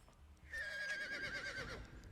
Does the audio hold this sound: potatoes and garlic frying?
no